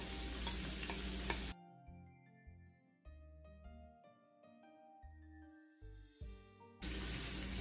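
Green chillies are stirred into a pan of potatoes and green beans frying on a high flame. Loud, dense sizzling opens and closes the passage, and a stretch of melodic music fills the middle.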